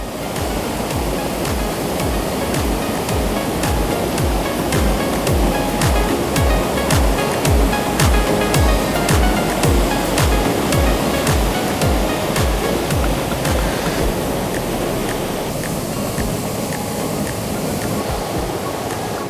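Loud, steady rushing water roars continuously with no voices, a dense broadband wash like a waterfall close by in a valley.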